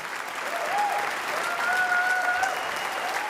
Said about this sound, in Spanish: Cuando empiezan los aplausos, todo lo demás desaparece.